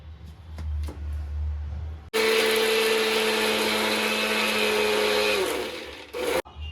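An electric mixer grinder purees onion and coriander into paste, a low rumble with light knocks giving way to an abrupt, loud, steady whirring roar for several seconds, which stops, then bursts once more briefly.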